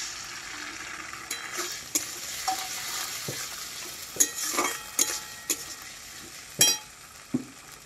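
Tomato and onion frying in a pan with ginger-garlic and cumin paste, under a steady sizzle broken by sharp, irregular scrapes and clinks of a spatula stirring against the pan.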